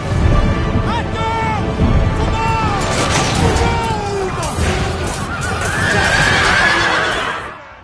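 In the Total War Rome 2 video game, cavalry horses neigh repeatedly and loudly while charging, with clattering hooves and battle clashes beneath.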